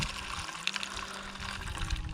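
Granulated quicklime tipped into a container of water, giving a steady broadband fizzing and bubbling hiss with small splashy spatters, close and moderately loud throughout, with no talking.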